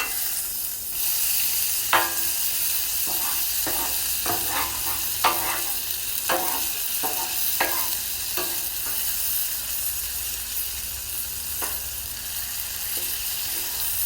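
Ribeye steaks sizzle on a Blackstone griddle after being flipped, a steady hiss of frying fat broken by scattered crisp pops and the scrape of a spatula. No voices.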